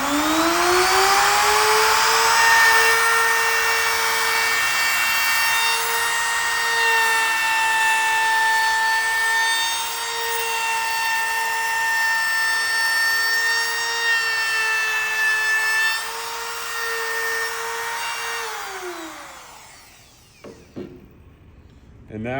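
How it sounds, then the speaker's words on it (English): A wood router rounds over the edge of a wooden piece, giving a loud, steady high-pitched whine with a slight dip in pitch midway, then spinning down and stopping near the end. "Keep our hands well clear of the router. Make sure we keep it flat and guide it around like so."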